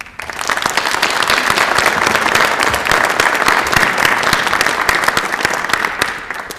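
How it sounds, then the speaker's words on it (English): An audience at a school board meeting applauds the Board of Education, a loud, sustained round of dense clapping that swells quickly and fades near the end. "Please join me in a round of applause for our Board of Education."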